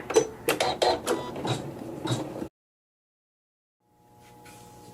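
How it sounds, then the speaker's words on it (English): An embroidery machine stitching a quilting design gives a quick run of sharp mechanical clattering bursts for a couple of seconds, falls silent, then a quieter steady motor hum rises. "Sew a few stitches, cut the thread, and continue with the quilting designed and digitized by Sharon Schaumburg"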